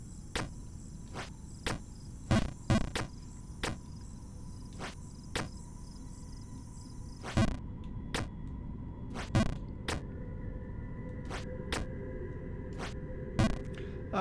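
Cricket chirps from the video game Jump King ring out steadily over a night ambience, mixed with sharp intermittent clicks and taps, moderately loud and without talk.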